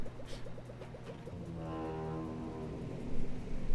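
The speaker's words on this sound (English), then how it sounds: "that foghorn is not going away" A long, droning foghorn blast in Super Monkey Ball Adventure, a sustained low tone rising out of busy game noise after a quick run of chirpy blips.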